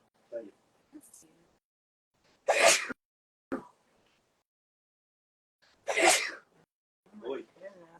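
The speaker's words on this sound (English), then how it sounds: "my husband's sneezing at the store" A man sneezes in a store, two loud bursts a few seconds apart, set among quiet, scattered talk from nearby people.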